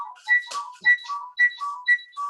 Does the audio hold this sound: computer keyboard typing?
no